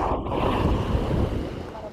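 Broadband wash of surf and wind buffeting the microphone on a beach in Southeast Sulawesi, steady and close, with no voices.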